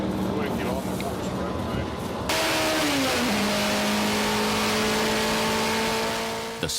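A streamliner record car accelerates on a speed run, its engine a loud, steady mechanical roar with a rising whine that dips and shifts as it gears up, while people talk over it.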